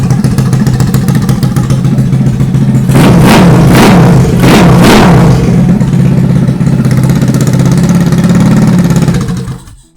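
Small engine fitted with a custom Ruckus exhaust header and no muffler, idling very loud and close, then revved hard in several rising blasts before settling back to a rough idle and cutting off.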